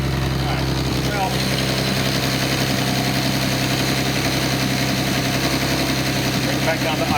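Nissan L28 inline-six from a 280ZX runs on a test stand, steady and loud with a constant engine drone near idle, its low harmonic hum continuous throughout.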